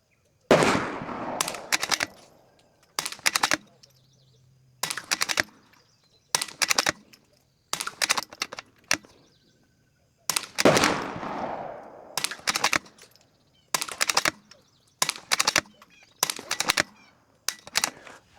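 Sharp rifle shots from a Savage B22 Precision .22 rimfire at a range, fired one at a time with irregular gaps, each crack loud and close with a short decay, around a dozen in all and no talking.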